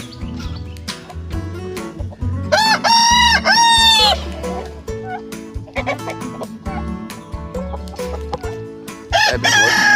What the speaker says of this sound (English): Get on back, Rooster